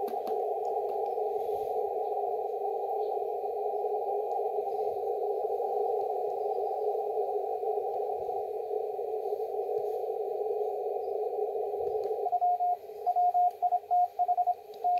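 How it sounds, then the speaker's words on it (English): An overseas single-sideband shortwave station received on an SDR with a Raspberry Pi 2 comes through as a steady, narrow buzzing signal over faint hiss, then breaks into choppy pulses near the end as tuning shifts. "that's a sideband station overseas. Must be in Indonesia."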